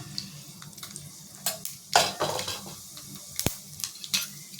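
Dried red chillies, mustard seeds and cumin hit hot oil in a pan, giving a scattered crackle and sizzle broken by sharp pops and clinks of a utensil against the pot, close by.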